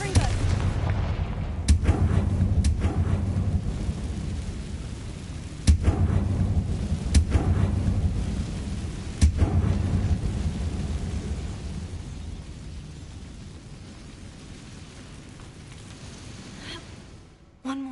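A Confringo fire spell in the Hogwarts Legacy video game lets off several heavy, booming blasts with rumbling low tails, spaced a few seconds apart, then fades into a quieter stretch.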